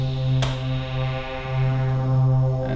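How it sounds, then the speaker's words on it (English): A simple, airy Nexus synth pad chord sustains steadily and loudly throughout, with stacked harmonic tones and a soft swell, alone without speech. "the next sound we figured out was a pad, a simple pad by Nexus."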